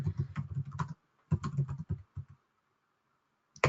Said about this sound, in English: start typing what you want this to be called. Click Enter